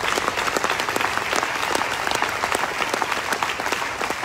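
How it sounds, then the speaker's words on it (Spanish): Church congregation clapping steadily and loudly in dense, continuous applause during a Spanish-language worship service, with a faint voice underneath. "dele palmas a Dios."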